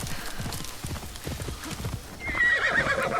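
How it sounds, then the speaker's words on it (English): Rapid clip-clopping hooves of a horse in Assassin's Creed Shadows on PS5 run throughout, followed by a loud horse whinny rising near the end, with no talking. "Let me summon my teleporting horse."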